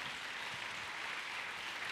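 Audience applause with cheering at a church gathering in praise of David, a steady dense wash of clapping with no gaps, fairly faint and even throughout.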